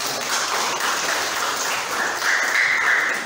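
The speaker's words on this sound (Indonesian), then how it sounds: "Beri tepuk tangan dulu" Children applaud in a classroom after a group presentation, a steady dense patter of many small hands clapping for about three seconds, swelling slightly toward the end with no talking over it.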